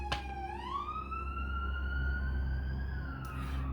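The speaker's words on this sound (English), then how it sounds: "let's let that siren go by" A siren wails steadily as it passes along a busy street, its pitch rising and holding over a constant rumble of traffic.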